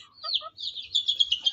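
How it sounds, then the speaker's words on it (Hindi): A broody hen makes a run of high, rapid clucks and short squawky calls, close by and fairly loud, repeating in quick bursts. "ये हमारी मुर्गी कुड़क हो गई है"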